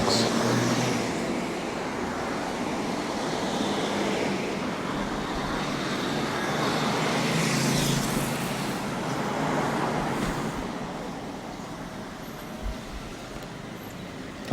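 Steady road traffic on a Japanese roadway with smaller trucks and cars passing, a continuous wash of engine and tire noise that swells and eases slightly, with no talking.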